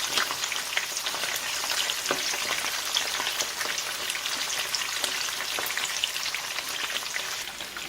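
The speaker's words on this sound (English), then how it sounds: "So the next set is frying." Steady, dense crackling sizzle of fish frying in hot oil for Jamaican escovitch fish, continuous and close, with no voices.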